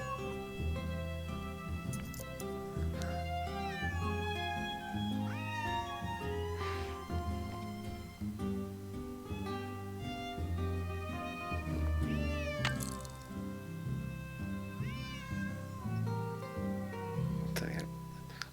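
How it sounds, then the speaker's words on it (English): A cat meows repeatedly in the video game Nancy Drew: Secret of the Old Clock, clear rising and falling calls over steady game music throughout. "What does this cat want?"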